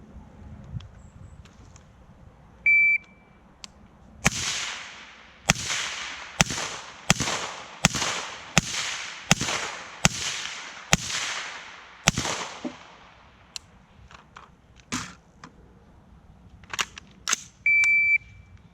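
Ten loud, sharp pistol shots fire in a steady rhythm from standing at 25 yards in a standing-kneeling-prone drill, with shot timer beeps at start and end and quieter handling clicks between; no talking.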